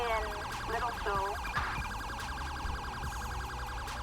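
An ambulance siren wails in the LSPDFR police video game, a loud, steady cycling electronic tone that continues throughout over a low rumbling background.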